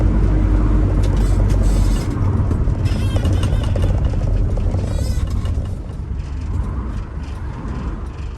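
Isuzu NPR/NKR truck driving unladen over a bumpy village road, heard from inside the cab as a loud, steady engine and road rumble with faint rattles, easing slightly toward the end.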